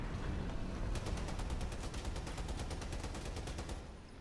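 Vehicle-mounted guns firing in the Crossout combat game, a loud continuous rapid burst of automatic fire with a fast regular rhythm, close and sustained throughout before easing slightly at the end.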